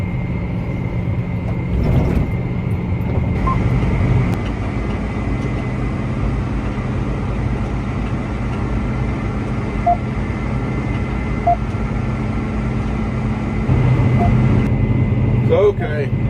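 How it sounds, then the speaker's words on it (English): A farm tractor runs along a highway as it heads back to the house during wheat harvest preparations, its engine a steady, close, low drone that holds for the whole stretch with slight shifts in pitch. "I'm on my way back to the house, bringing the tractor in."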